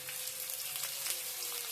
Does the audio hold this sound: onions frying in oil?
yes